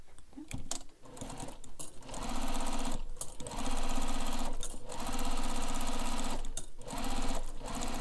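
Sewing machine stitching across the bottom of a backpack, running in steady rapid bursts separated by short pauses, close and fairly quiet.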